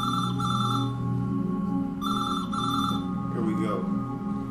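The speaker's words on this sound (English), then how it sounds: "We have to answer the phone." A telephone rings twice in clear bursts with a pause between, heard from a television show under a low background murmur and brief voices.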